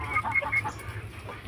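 A sick hen that cannot stand clucks softly in a few quick repeated notes, close by, with a low rumbling background.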